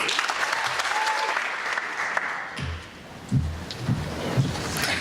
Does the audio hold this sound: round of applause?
yes